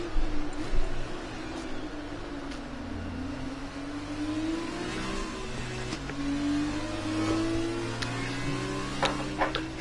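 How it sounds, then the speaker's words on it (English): F1 car engine in a racing video game at Monaco, a sustained high engine whine that rises and falls with throttle and gear changes over a low rumble, continuous and close with no talk. "racing in the car that was actually raced by Yuki Tsunoda"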